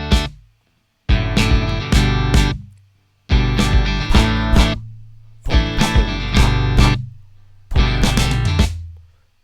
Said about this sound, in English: So if I play the guitar and the bass line as well, it sounds like this.